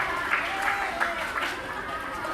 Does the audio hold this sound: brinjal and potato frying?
no